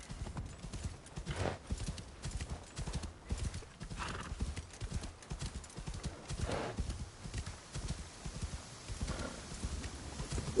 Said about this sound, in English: Not an altogether ugly horse.